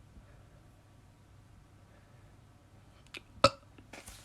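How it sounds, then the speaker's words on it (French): A single short, sharp burp pops out of near-silence, close and abrupt, with a couple of faint clicks just before it. "Ah, j'ai roté."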